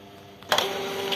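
A Canon iP2770 inkjet printer printing on art paper gives a brief mechanical whir with a sharp burst of feed and carriage noise partway through, close and fairly loud, with no talking.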